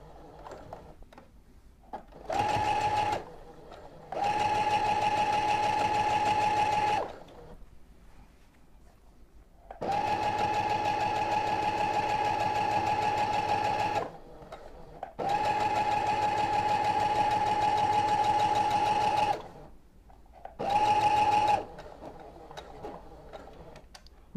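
A sewing machine stitches a baby pillowcase dress in several bursts of fast, steady whirring, separated by short pauses, including a brief reverse stitch, with no talking.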